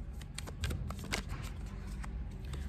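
Tarot cards being shuffled by hand in a quiet room, a close, continuous papery riffling and slapping with small irregular snaps, no talking.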